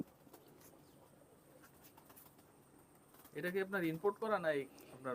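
Pakistani high flying pigeons coo softly in short warbling phrases near the end, after a quiet stretch of faint background noise; someone talks in the clip.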